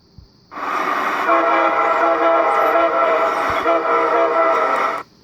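A Trainz video game locomotive horn sounds in one long sustained chord of about four and a half seconds, loud and close, with a brief dip partway through, starting and stopping abruptly.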